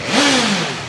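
A BMW S1000XR motorcycle exhaust makes a single short, loud rev toward 8,000 RPM, the pitch climbing fast and then sagging away, heard close with no talking.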